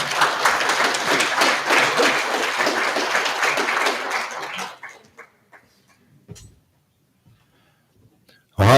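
Dense, loud applause from an audience at the Lakota Media Summit fills the first several seconds, then thins to scattered claps and fades to near silence before a brief loud burst at the end.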